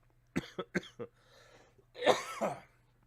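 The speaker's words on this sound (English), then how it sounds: "Jeez, the cough." Four sharp coughs in quick succession, near and fairly loud, followed by a rougher throaty cough or two after a short pause.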